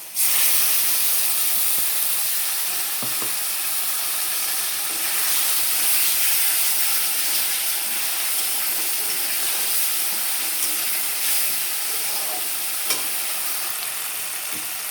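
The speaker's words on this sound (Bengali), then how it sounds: "এবার বেটে রাখা মশলাটা দিয়ে দেবো" Ground spice paste added to potatoes in a hot pan, giving a loud, continuous hissing sizzle with steam and occasional stirring clicks, with no talking.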